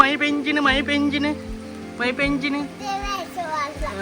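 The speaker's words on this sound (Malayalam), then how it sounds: "മഴയാണെങ്കിൽ നല്ല കിടിലം മഴ" Heavy rain pours outside a home, a constant wash of rainfall beneath children talking and playing close by.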